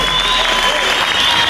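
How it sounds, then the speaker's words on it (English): Audience at a women's bout applauding, a dense burst of clapping close and loud for the whole moment with some crowd noise mixed in. "Give them a lovely round of applause."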